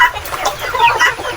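Hens cluck in short, repeated bursts close by, a busy overlapping chatter of several birds with no voices.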